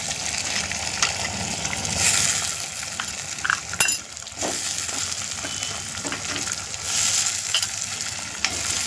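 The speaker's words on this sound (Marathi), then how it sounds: "कांदा लाल झालाय, आता त्याच्यात टाकून देऊ आपण टोमॅटो," Onion, crushed garlic and tomato fry in a pan while prawn and pea masala is cooked, giving a steady sizzle with stirring scrapes and a few clinks throughout.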